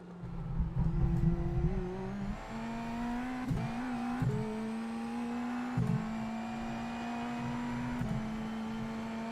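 An Indy NXT race car at St. Pete in iRacing keeps changing engine pitch through a series of downshifts and blips as it brakes early for a corner, each drop in pitch followed by a rising rev, near and loud, with no talking.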